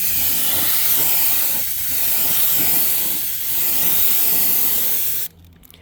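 Satin black spray paint hisses from a spray can or gun onto a Humvee rear AC evaporator box outdoors, a loud close hiss in three bursts with short dips between, then cutting off abruptly.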